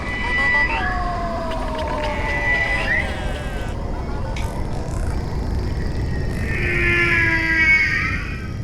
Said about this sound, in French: le plus célèbre des solistes est la baleine à bosse mâle